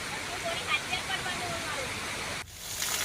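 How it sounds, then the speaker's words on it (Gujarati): A waterfall in the Aravalli hills, swollen by continuous rain, rushes as a steady, even wash of water, with a voice speaking faintly over it and a short dip near the end. "ધોધ વહે છે"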